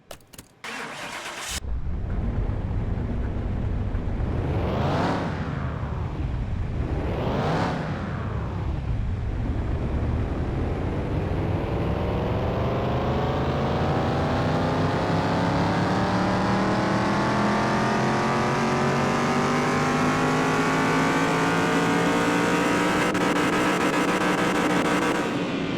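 Car engine cranks and catches, blips twice, then climbs in one long sustained wide-open-throttle pull on a dyno in Car Mechanic Simulator 2021, loud and steady with rising pitch throughout.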